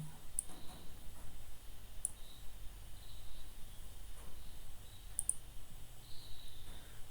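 Mouse buttons click sparsely while a bird is drawn in Krita, a few faint, isolated ticks spread over quiet room hiss with no talking.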